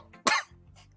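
A single harsh, loud cough burst from a person choking after food went down the wrong pipe, followed by faint breathy throat noises, with no talking.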